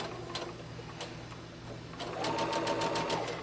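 Sewing machine stitching a seam in fabric for an 18-inch doll dress, a steady mechanical whir with rapid ticking that speeds up into a brisk run in the second half, close and clear.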